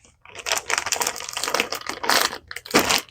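A carry-on suitcase zipper is pulled straight across in a series of quick, close, scratchy rasping bursts, with a brief gap near the end before a final pull.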